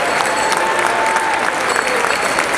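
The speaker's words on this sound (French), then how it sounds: "On les applaudit bien fort." Audience applause at a studio 88 Swing event, dense steady clapping from a crowd filling the whole stretch, fairly loud and close with no pauses.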